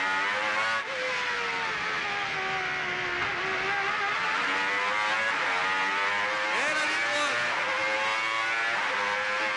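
A Renault Espace F1 screams loudly on track from onboard, the engine note climbing and dropping as it shifts up through the gears, with a brief spoken line over it.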